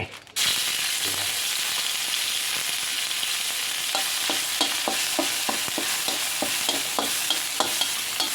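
Bamboo shoots with chicken and curry paste stir-fried in a pan, a steady sizzle broken by a run of quick scraping stirring strokes, close and loud with no talk.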